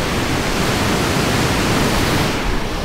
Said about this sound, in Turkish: Şu anda güzel de bir ince yağmur başladı bu arada.